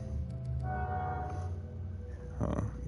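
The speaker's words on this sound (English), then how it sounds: "excuse the train" A train passes at a distance, giving a low rumble with a brief horn-like tonal blare near the start and a swell of noise toward the end, heard faintly behind a nearby voice.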